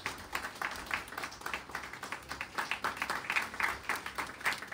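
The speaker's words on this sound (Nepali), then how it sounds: "अनि पास्टर आमालाई पनि हामी जोरदार तालीको साथ हामी स्वागत गर्नेछौँ" A church congregation at a Sunday fellowship in Tadong, India claps to welcome the pastor, a fairly faint, steady patter of many hands lasting several seconds.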